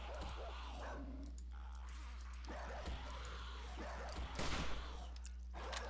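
Dogs in the video game 7 Days to Die bark, yip and growl while attacking blocks, with busy scuffling noises over a constant low hum.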